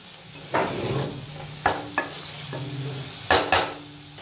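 Chicken fries in a kadai without oil, sizzling quietly while a utensil scrapes and clanks against the pan in several sharp, uneven stirring strokes.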